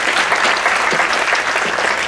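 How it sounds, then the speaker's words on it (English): Audience at a total solar eclipse viewing event breaks into sustained applause, dense and even throughout with a faint voice or two under the clapping. "how about an applause for Jay?"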